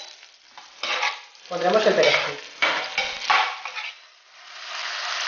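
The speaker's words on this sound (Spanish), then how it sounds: "Ya las hemos tenido como 4 o 5 minutos friendo con la guindillita, con el ajo y con el perejil." Prawns fry in oil with garlic, chili and parsley for gambas al ajillo, a close, steady sizzle broken by bursts of stirring and scraping, with a few spoken words early on.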